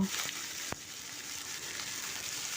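Cut potatoes and eggplant sauté in a pan, giving a soft, steady sizzle with a single sharp scrape early on; short, fairly quiet and free of speech.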